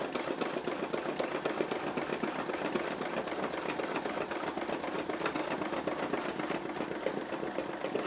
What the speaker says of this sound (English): See how it's stitching?